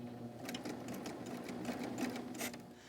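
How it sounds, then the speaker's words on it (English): A serger sewing machine stitches continuously around an outside fabric corner, a close, busy mechanical whir with rapid rhythmic needle chatter and no talking. "When I stitched along, stitched my 2 stitches off, brought it around, I don't have to cut my threads or anything."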